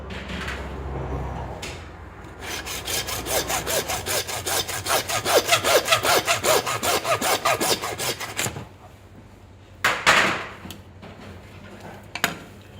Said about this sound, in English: we just cut it straight to the middle of the knuckle bone